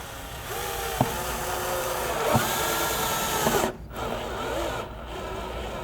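A power drill drives screws through a metal roof panel beside chimney flashing, compressing the rubber gasket; several short whirring bursts sound close over steady background noise.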